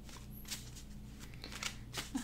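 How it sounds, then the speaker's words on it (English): Soft, continuous riffling and flicking of shuffled cards, close by and quiet, with brief crisp bursts repeating over a couple of seconds. "I like to shuffle for a long time."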